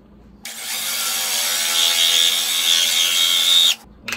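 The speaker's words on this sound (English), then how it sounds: "We're just gonna drill a hole in here." A 1 3/8 inch Forstner bit in a power drill bores into a wooden charcuterie board, a steady, loud, close whirring grind lasting about three seconds that stops abruptly.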